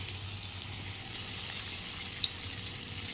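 Small sesame fritters fry in hot oil in a wok over low heat, giving a continuous soft crackling hiss with a couple of sharp little pops.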